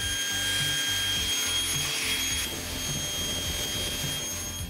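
A woodworking machine cuts the edge of a wooden tabletop, a loud steady whining drone with a continuous grinding, rubbing texture and a faint rhythmic low thumping, close and with no talking.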